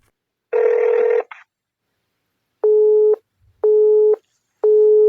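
Telephone busy signal on an unanswered call: a longer, louder buzzing tone, then three evenly spaced, identical beeps, clear and alone with no talking.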